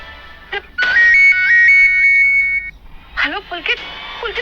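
A phone ringtone from an incoming call plays as a bright, repeating electronic melody of steady tones. Speech-like sounds come before and after it.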